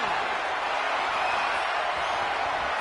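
Loud, steady roar of an arena crowd in the WWE 2K26 wrestling game, a continuous dense wash of cheering with no distinct breaks.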